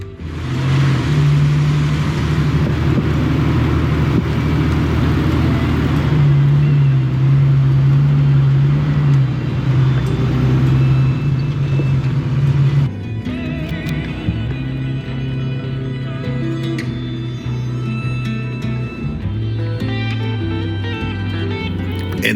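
A lifted, top-heavy truck crawls over a washed-out desert trail, its engine giving a loud, steady drone that shifts pitch as the driver works the throttle, then drops to a lower, quieter hum.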